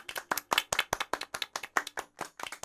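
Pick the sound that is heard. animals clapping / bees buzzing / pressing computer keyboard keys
animals clapping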